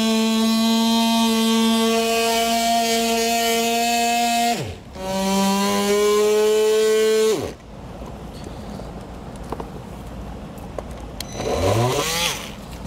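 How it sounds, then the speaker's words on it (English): A power tool cuts a vehicle's bumper fascia for a hidden trailer hitch install, its motor whining steadily with bright harmonics. The pitch dips twice before the motor cuts off into scattered scraping and handling noises, with no talking. "If you stay along this line, you should be okay. And the rest of this does look pretty good as long as we don't get too hasty with our cutting."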